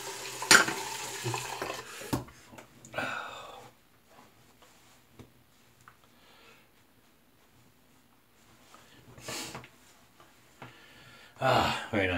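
Water splashes and trickles as a face is rinsed at the sink after an alum block shave, heard in brief bursts of splashing between quieter stretches, with faint breaths and small sink noises close by.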